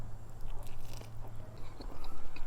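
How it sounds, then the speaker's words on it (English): Someone bites into a smoked birria taco in a crunchy fried tortilla. Several close, crisp crunches are followed by soft chewing that rises toward the end, with no talking. "Nice and crunchy from the fried tortilla."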